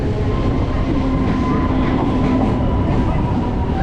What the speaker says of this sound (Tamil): இப்போது ட்ரெயின் உள்ள என்ட்ரா வந்து பழவந்தாங்கல் ரயில்வே ஸ்டேஷன்